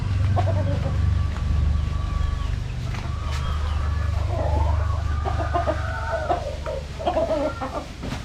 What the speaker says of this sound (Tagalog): So ito yung isang manok.